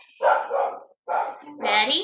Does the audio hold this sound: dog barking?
yes